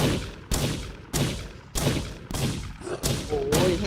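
Repeated sharp booming blasts in the game Shoot and Eat Noobs, about seven in quick succession at roughly half-second intervals, each with a decaying rumble.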